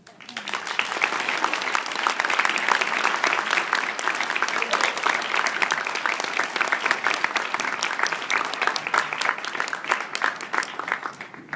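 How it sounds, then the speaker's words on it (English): Warm applause from the audience at a chamber of commerce women's breakfast, a dense, steady burst of clapping that swells quickly, holds for over ten seconds, then tapers off. "I'd like to give us another round of applause for all of our speakers"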